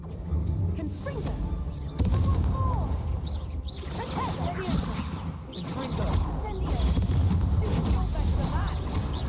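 Confringo fire spells burst in the Hogwarts Legacy video game: loud whooshing blasts and crashes, one sharp hit near the start and more later, with game voices talking over the busy action.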